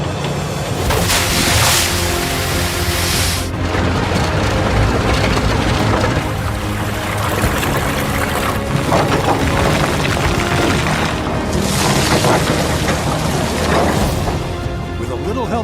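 A heavy screening machine with a newly replaced welded screen deck starts up, giving a loud, continuous roar and deep rumble with periodic surging swells that fill the whole stretch, while voices may be heard faintly beneath the din.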